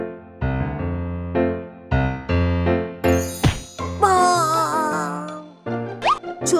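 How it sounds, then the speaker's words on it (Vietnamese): Temple bell struck several times in a Vietnamese cartoon, a series of bright ringing strikes in a regular rhythm, each decaying, followed by a cartoonish whoosh and squeaky sound effects. "mình phải đánh thử cái chuông mới được."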